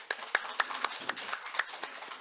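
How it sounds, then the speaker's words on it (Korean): A church congregation gives a short burst of encouraging applause, a quick run of scattered, crisp hand claps under some faint voices. "격려 박수하겠습니다"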